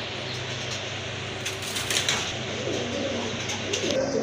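Several pet pigeons coo steadily in a loft or cage kept for sale, a low continuous rolling call close by with a few overlapping birds, fairly loud and without talk.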